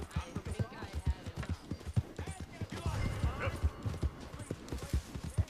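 Horse hooves clip-clop in a steady rhythm as a Tennessee Walker trots in Red Dead Redemption 2, moderately close, with a voice talking over the hoofbeats.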